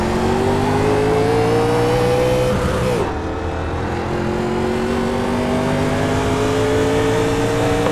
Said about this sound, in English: Car approaching. Watch your mirrors.